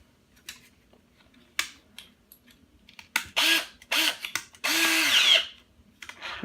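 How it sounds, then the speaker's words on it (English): A power drill fitted with a 3/16 bit whirs in several short bursts, with a longer steady run near the end and small clicks and handling noises in between; the drill is close and fairly loud, and nobody speaks. "put it in our drill."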